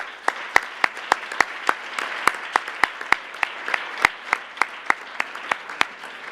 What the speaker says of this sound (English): I really think they deserve a loud round of applause